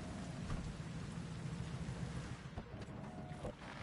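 Steady rainfall in the video game Cyberpunk 2077: Phantom Liberty patters down with a soft, even hiss, and a few faint low rumbles come through underneath.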